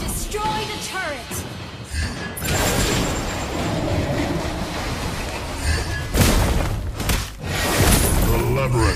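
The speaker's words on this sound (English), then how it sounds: "You destroy the turret." A turret is destroyed in a Smurf video game, with crashing, shattering impacts and booming bursts, loud and dense, partly under in-game voices.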